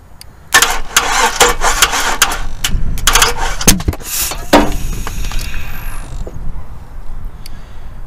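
Junkyard LQ4 V8 engine cranks with a rapid chattering starter for several seconds, then catches and settles into a rough idle, loud and close.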